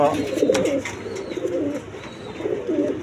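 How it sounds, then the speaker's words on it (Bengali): Pigeons kept in pairs for sale coo in soft, repeated throaty bursts close by, with faint chirps and background murmur around them. "খুব সুন্দর কবুতরগুলা দেখেন"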